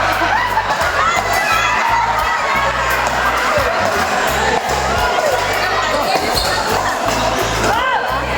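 Fans shout and cheer throughout at an indoor pickleball tournament, a steady loud crowd roar with children's voices, scattered whoops and thumping ball or paddle impacts underneath.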